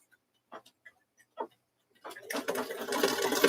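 An embroidery machine stitching a card held in the hoop, starting after a few soft taps and handling sounds and then running as a steady, rapid mechanical whir that builds and continues to the end.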